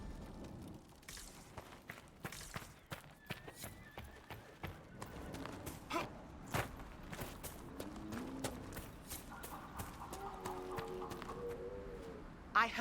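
A horse's hooves clip-clop in Dragon Age: Inquisition in an irregular rhythm on hard ground, faint and mid-distance, with a voice talking over them and some soft background tones.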